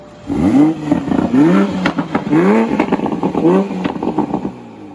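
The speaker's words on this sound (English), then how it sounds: "I'll go ahead and rev it for you guys some more" Repeated sharp throttle blips from a 2020 Toyota Supra Launch Edition, each rev climbing and falling in quick succession, loud and close, with crackling pops between the bursts.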